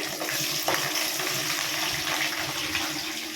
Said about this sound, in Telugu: ఫ్రై చేసేస్తున్నాను ఉల్లిగడ్డ పచ్చిమిర్చి కట్ చేసేసాను